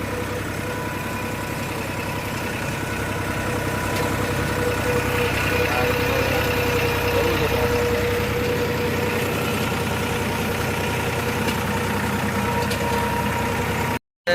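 A tractor engine idles steadily at a farm field being levelled for wheat, giving a constant mid-low drone for about fourteen seconds with no talk.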